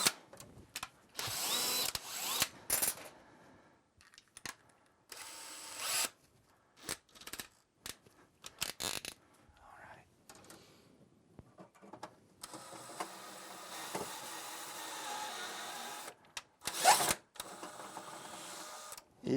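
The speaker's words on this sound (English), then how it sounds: "pre-drill my second hole first." A power drill pre-drills holes for mounting screws while an external electrical disconnect is fitted, sounding as short, close, intermittent whirring bursts separated by quiet handling noises.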